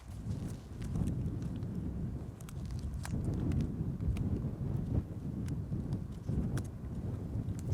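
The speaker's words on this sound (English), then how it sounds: "it's very windy up here" Steady low rumbling wind buffeting a microphone outdoors at a commencement ceremony, constant and close, with gusts swelling and easing throughout and no speech.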